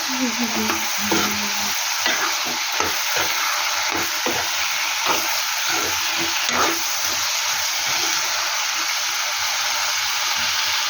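Steady sizzle of chicken liver curry frying in a pan, with rhythmic scraping and knocking of a spoon stirring throughout.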